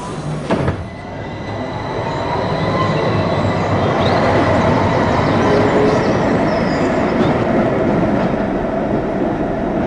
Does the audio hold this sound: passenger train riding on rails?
yes